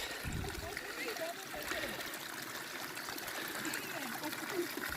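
Steady trickling water from a small snowmelt waterfall on Koç Dağı, Erciyes, runs continuously with a light splashing texture, while faint voices murmur in the background.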